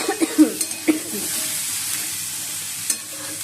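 Chopped vegetables are stirred in a hot pan and sizzle steadily during home cooking. A few sharp clinks of the spoon against the pan come first, then a soft, even frying hiss that carries on alone.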